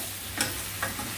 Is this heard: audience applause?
no